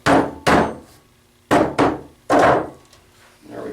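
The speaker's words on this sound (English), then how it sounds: "You can use a soft hammer to send it home" A soft hammer taps a 39mm motorcycle fork seal into its tapered fork leg: five sharp, close, loud knocks in irregular pairs, each ringing briefly, with a softer thud at the end and no talk.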